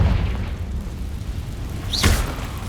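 A Confringo fire spell explodes in the Hogwarts Legacy video game, a single sharp burst with a rising whoosh near the end, set over a steady low rumble.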